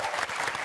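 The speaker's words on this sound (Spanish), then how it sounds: "Un aplauso para el elenco de Perros de la Calle" Studio audience applause on a Chilean TV program set, for the cast of Perros de la Calle, a short steady burst of dense clapping heard alone.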